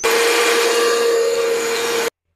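A kitchen grinder whirs steadily while grinding food into a fine paste, a loud continuous motor drone with a strong steady hum that runs for about two seconds and then cuts off abruptly.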